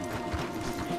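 Horses' hooves clopping on a path in Red Dead Redemption 2, a quick series of soft, close thuds over a low ambient bed.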